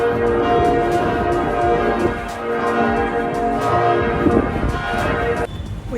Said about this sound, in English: the big bell above the church started ringing